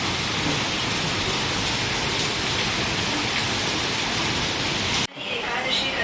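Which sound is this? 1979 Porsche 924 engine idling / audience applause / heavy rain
heavy rain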